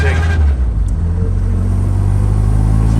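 A small Austin-Healey Bugeye Sprite, running low on fuel, drives with a steady low engine rumble and hum that holds on continuously, close and fairly loud.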